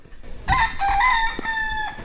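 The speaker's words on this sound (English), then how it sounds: "Them hear the rooster?" Rooster crowing in a mountain community on St. Thomas, a clear, loud, sustained crow of about one and a half seconds, heard alone and fairly close.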